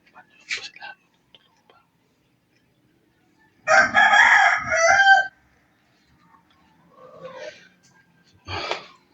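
A rooster crows loudly once in the middle, with chickens clucking around it and a few quiet whispers between.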